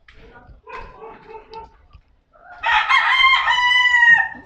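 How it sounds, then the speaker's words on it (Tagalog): A young rooster crows loudly and close, one long strained call in the second half after some quieter clucking and shuffling, with a dog barking faintly in the background. "Ito magtilaok na ah."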